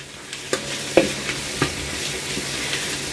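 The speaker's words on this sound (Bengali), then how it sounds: "এই যে দেখুন মশলাটাকে খুব ভালোভাবে আমি কষিয়ে নিয়েছি।" Spice paste sautés in a pan while being stirred, with a steady sizzle broken by several sharp scraping strokes of the spoon, close and fairly loud, with no talking.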